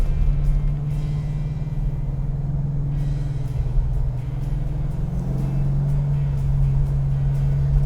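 Steady low engine rumble from inside the cabin of a custom 1971 Plymouth Cuda muscle car accelerating, droning evenly with a slight rise in pitch near the end.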